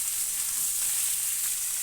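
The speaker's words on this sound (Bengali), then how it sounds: "পাঁচফোড়ন ভাজা হয়ে যাওয়ার পরে দিয়ে দিলাম কেটে রাখা কুমড়ো" Cut pumpkin frying in hot mustard oil with dried red chilli and five-spice seeds, giving a steady, close hiss of sizzling oil with no break.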